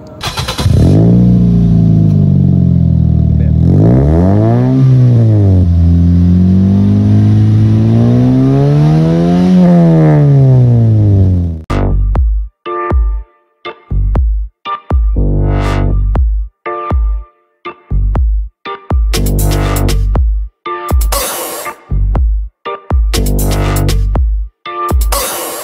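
A 2015 Toyota Vios with an HKS muffler revs loudly and close up, first in long climbing and falling sweeps, then in a run of sharp, short throttle blips separated by brief gaps.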